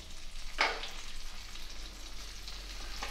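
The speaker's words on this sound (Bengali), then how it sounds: "আমি এখানে পেঁয়াজ দিয়ে দেবো, হালকা একটু ভেজে নেব" Onions frying lightly in a pan with a steady, soft sizzle close by, plus a brief louder crackle early on.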